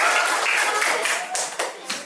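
Classroom students clapping together in a short burst, a few distinct claps standing out toward the end, moderately loud and close.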